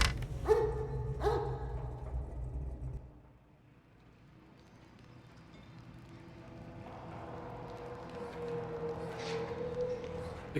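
A dog in the video game Mad Max gives two quick, close barks near the start, followed by a quieter stretch of low ambient game sound.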